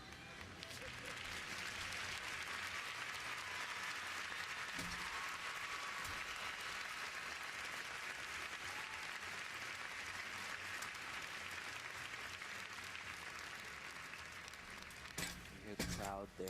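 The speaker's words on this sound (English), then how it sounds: "They are applauding" A gymnastics arena crowd at a women's national championship all-around applauds steadily, a dense, sustained wash of clapping and cheering that holds at an even level throughout, with a brief burst of sharper sounds near the end.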